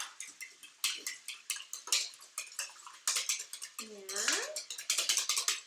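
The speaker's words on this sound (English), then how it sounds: "I just whisk it all together." A flat whisk beats French toast batter in a bowl with quick, steady ticking strokes close by, while a voice speaks briefly partway through.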